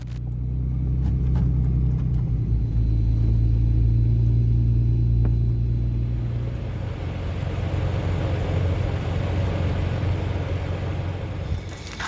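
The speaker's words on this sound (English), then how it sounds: "A car just pulled up into the parking lot. It honked its horn and then did a lap around me." A car rumbles close by in a parking lot at night, its engine noise steady and low as it pulls up and slowly circles a parked camper van.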